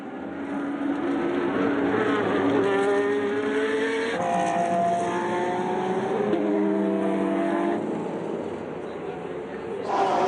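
Race cars at the 2009 Le Mans Series 1000 km of Spa roar loudly past, their engines climbing and dropping in pitch through gear changes as several cars follow one another.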